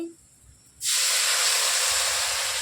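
Water splashed into a hot pan of frying garam masala while cooking chicken in ghee, giving a sudden loud hiss that holds steady as a continuous close sizzle.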